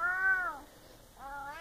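A distressed cat meows twice in long, drawn-out, tonal cries, close and clear with a short pause between them and no talking.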